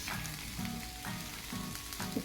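Unpeeled peanuts fry in a pan of hot oil for onion chutney with a continuous close sizzle. Regular scraping stir strokes recur about twice a second over the steady crackle.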